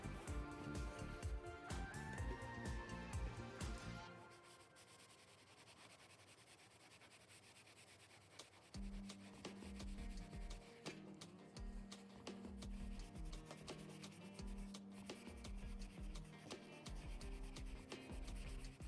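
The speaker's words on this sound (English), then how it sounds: "It's just rubbing it with isopropyl alcohol, getting anything that's left." A PC component is rubbed with isopropyl alcohol during a computer build, giving quiet repeated scrubbing and rubbing strokes beneath background music.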